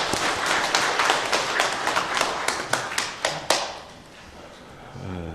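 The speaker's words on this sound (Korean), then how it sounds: "우리 한번 박수로 환영하겠습니다." A church congregation claps during a Sunday service to welcome a member: a dense run of hand claps fills the first three and a half seconds, then fades into quiet room tone.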